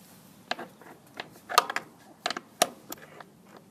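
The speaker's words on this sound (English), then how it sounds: "we're going to loosen this screw here first. We're going to use a 10mm socket" A 10mm socket loosens a screw on the air filter box of a 1997 Toyota Camry, giving irregular close ratchet clicks and small metallic taps in short bursts against a quiet background.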